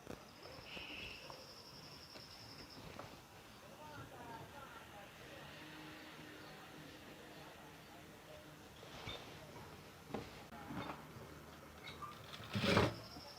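A sewing machine stitching a school uniform pinafore runs in a steady soft whirr through the whole stretch, fairly quiet and close, with a few small clicks and a brief louder rattle near the end.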